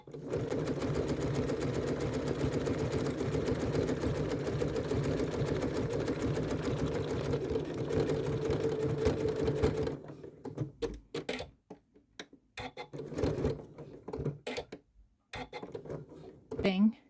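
A sewing machine stitches appliqué onto a sweatshirt: a steady, continuous motor whir runs for about ten seconds, then breaks into short, stop-start bursts as the fabric is pivoted and repositioned.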